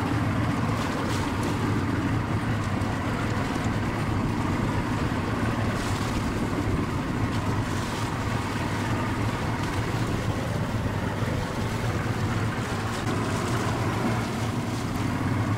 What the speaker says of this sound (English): Off goes the machine towards the stranded engine, leaving in its wake a large path of broken ice.